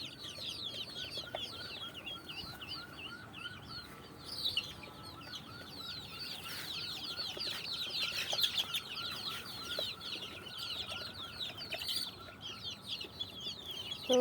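Chickens cluck and chatter steadily at a poultry farm. A busy layer of short calls runs throughout, with a few louder squawks and bursts of wing-flapping close by. No one speaks.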